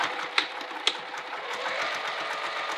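A sewing machine runs a steady, close hum while it stitches a seam on a small fabric wallet, with a couple of sharp clicks early on and no talking.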